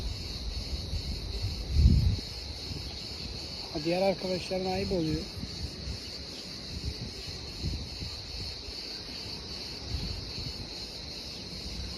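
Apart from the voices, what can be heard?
crickets chirping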